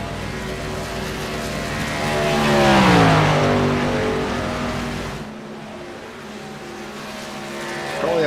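Racing truck engines on a track in a sim racing video game, plasma cutting pavement series: a loud engine drone swells as a truck passes close by with a pitch sweep, then fades before another approaches, with no talk.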